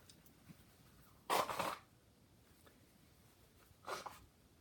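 A person blows their nose in two bursts, a longer forceful honk followed a couple of seconds later by a shorter one, close and clear against a quiet room.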